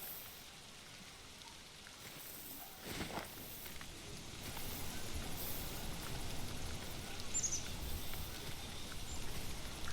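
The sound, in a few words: rain in the video game The Hunter: Call of the Wild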